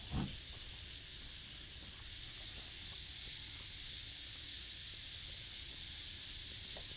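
A gas burner at a drum charcoal kiln hisses steadily and faintly in a constant, even rush, with a small knock at the very start.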